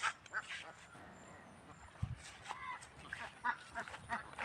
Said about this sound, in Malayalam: ഇത് മൊത്തം താറാവ് കൂട്ടാണ്.